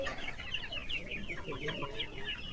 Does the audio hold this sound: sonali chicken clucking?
yes